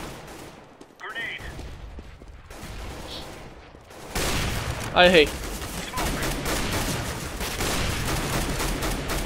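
Counter-Strike: Global Offensive gunfire: scattered shots, then a loud burst of rapid automatic fire, with a man reacting briefly in between.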